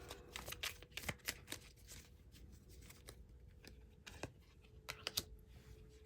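Tarot cards riffle and snap in a quiet room during a pick-a-card reading, a string of crisp, close papery flicks and taps in an irregular rhythm with no talking.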